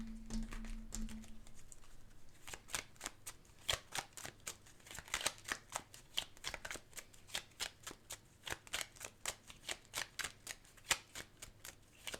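Tarot cards shuffled close by in a quiet room, a steady run of soft crisp card snaps and riffles, about two per second, after a brief low hum at the start.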